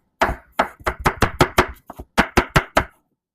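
A knife dices a jalapeno on a cutting board, about a dozen sharp, close chops in quick, fairly even rhythm before stopping.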